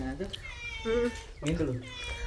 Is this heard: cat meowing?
yes